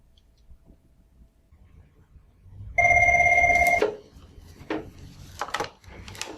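After a phone number is dialed on a relay call, a telephone ring sounds once, a steady electronic trill lasting about a second, followed by faint clicks and handling noises.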